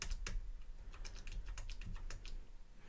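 Computer keyboard typing a command, with a quick run of crisp key clicks close by and a final press for enter, no talk.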